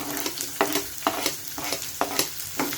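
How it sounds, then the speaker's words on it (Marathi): Onion going into hot oil with garlic and green chillies for a quick dry okra stir-fry, with a steady low sizzle broken by regular stirring scrapes and taps of a spoon against the pan. "लसूण झालेला आता कांदा घालतेय।"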